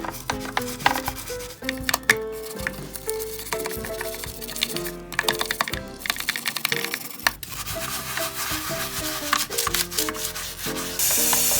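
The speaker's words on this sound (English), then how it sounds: "And while I'm scrubbing away" Scrubbing a Y2K M&M's Rock'n Roll Cafe candy dispenser clean, with rapid, rhythmic brushing and rubbing strokes against plastic, close and continuous for over ten seconds and broken only by brief pauses, no voices.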